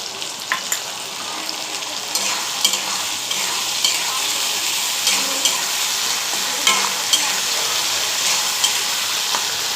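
Masala paste sautés in a pan for a katla fish kalia, giving a continuous bright sizzle with regular scraping spatula strokes throughout.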